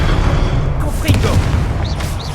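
Confringo explosion spell cast in a Harry Potter video game: a loud, deep booming rumble with a brief burst of crackle, while a voice calls out over it.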